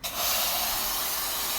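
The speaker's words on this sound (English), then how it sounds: "Spray some mozzie." A can of insect repellent sprays mosquito spray in one sustained, close, loud hissing burst that starts abruptly and holds steady.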